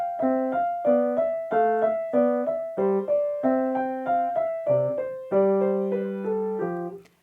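A piano plays Menuet en Rondeau, with a flowing melody over short, detached left-hand notes in a graceful dance rhythm, moderately loud and clear.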